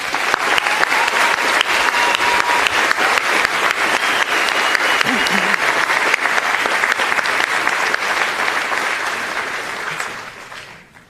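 Sustained applause from a large commencement audience for graduates and their families, dense and steady for about ten seconds before thinning out at the end.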